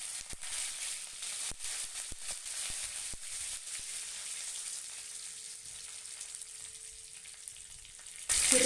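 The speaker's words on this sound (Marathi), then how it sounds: "तेल गरम झाल्यानंतर यामध्ये जिरे घालून घ्यायचे, कढीपत्ता घालून घ्यायचा" Cumin seeds and curry leaves fry in hot oil, a steady close crackling sizzle with scattered sharp pops early on that settles into an even hiss, then grows louder and brighter right at the end, with no voices.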